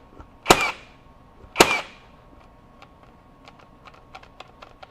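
A FLEX 24V brushless 18-gauge brad nailer fires twice into a deck, each a sharp, loud snap with a short ringing tail about a second apart, followed by faint light clicks.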